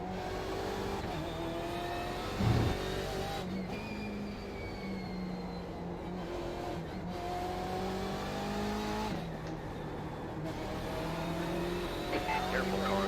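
BMW M8 GTE race car engines drone and rise through gear changes on the Lime Rock circuit in iRacing, with a brief thump partway through and engine tone dropping and climbing again under a voice that speaks intermittently.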